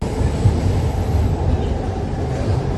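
A Bengaluru metro train rolls toward Dasarahalli station, a loud, steady low rumble and rail hum heard from inside the carriage without a break.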